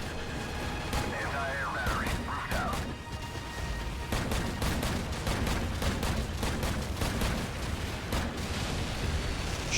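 Rapid bursts of gunfire and sharp blasts in the video game Call of Duty 4: Modern Warfare, repeated cracks dense and continuous over a battle background, with a voice talking underneath.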